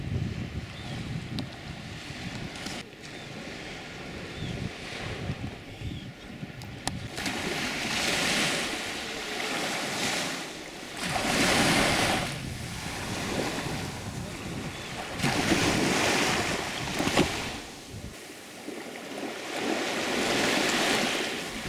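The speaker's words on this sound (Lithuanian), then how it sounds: "Today the sea is calm." Calm sea waves wash onto the shore in slow, repeated surges, swelling and fading every few seconds, with wind buffeting the microphone and no talk.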